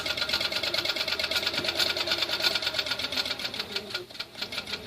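A Handiquilter longarm quilting machine stitches steadily while basting a quilt, its needle a fast, even mechanical chatter close by that eases off slightly near the end.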